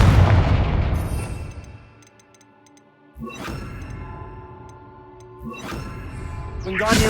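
A Confringo blasting spell in Hogwarts Legacy goes off as a series of booming explosions, roughly three heavy blasts, each with a whooshing rise and a long rumbling decay layered with ringing game effects.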